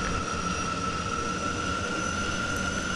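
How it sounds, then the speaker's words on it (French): Steady, loud whine and roar of a Falcon jet's engines while taxiing toward runway 16 left, a continuous drone with a sustained high tone and no talking. "On débute le roulage vers le point d'arrêt pour la piste 16 gauche."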